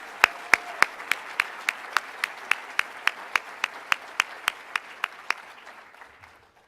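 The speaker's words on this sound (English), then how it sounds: "Let's begin by giving another round of well-deserved applause to Dr. Sean Murray and the FAU Marching Owls" A university audience at a State of the University address claps in unison after a marching band performance, about twenty evenly spaced sharp claps that gradually fade out, with no one speaking.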